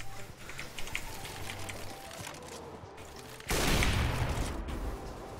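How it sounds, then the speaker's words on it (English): Gunfire in a CS:GO deathmatch on a casual server comes as faint, scattered shots, then a dense burst of rapid fire about two-thirds of the way through. "Where am I getting shot from?"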